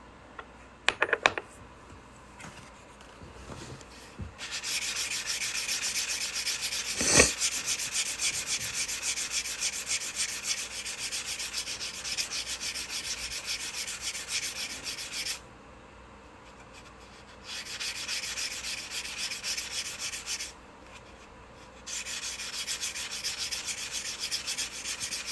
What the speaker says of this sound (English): I'm just sanding both of these cut edges to try and get them nice and smooth and not sharp anymore.